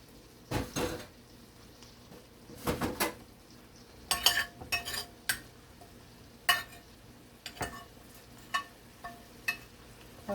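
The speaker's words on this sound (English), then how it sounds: "That's my iron skillet. Let's toss the rest of the saltfish in, codfish, and let it do its thing." Saltfish codfish goes into an iron skillet amid a run of sharp metallic clinks and clatters, with pan knocks and utensil taps spaced irregularly and close by, some loud, with no talk.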